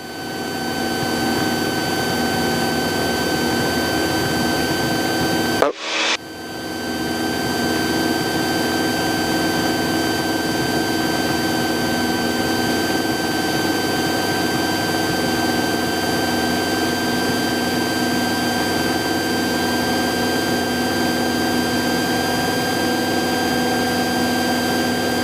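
A small airplane engine during the takeoff roll, a loud steady droning roar with a constant whine that runs throughout, broken only by one brief sharp thump.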